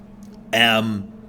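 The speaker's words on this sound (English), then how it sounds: "Kitty! You can pet the cat." A cat meows once inside the video game Cyberpunk 2077, a short, clear, close call with rising and falling harmonics, heard alone over a low steady background hum.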